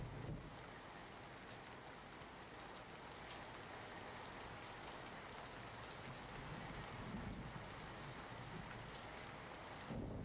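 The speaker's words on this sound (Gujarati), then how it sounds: "ગાજવીજ સાથે ભારે પવન અને વરસાદી માહોલ જોવા મળ્યો" Steady, dense rain pours down across an evening storm in the Ambaji area of Gujarat, with gusty wind. The downpour holds an even, close roar throughout, and no voices are heard.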